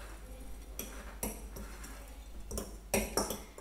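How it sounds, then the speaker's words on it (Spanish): Dry ingredients for a coconut cheesecake are stirred in a bowl, giving soft scraping with a few light clinks of utensil against the dish, close and quiet, with no talk. "Lo removemos bien."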